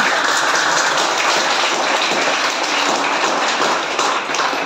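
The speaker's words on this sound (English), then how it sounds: "please give sir a huge round of applause." Loud, sustained applause from a large group, dense and even clapping close by that continues without a break.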